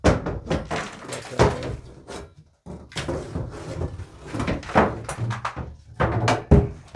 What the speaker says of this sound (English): I'm going to use the rake to knock that down.